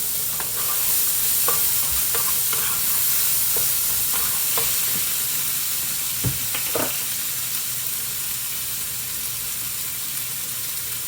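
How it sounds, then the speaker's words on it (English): Balsamic vinaigrette mixture stirred in a cooking pan, a steady sizzling hiss under soft scraping strokes, with a few sharper clinks of the utensil against the pan. "Let me stir this really quick."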